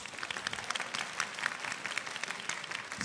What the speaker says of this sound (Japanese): まずはこの両選手に大きな拍手をお願いします。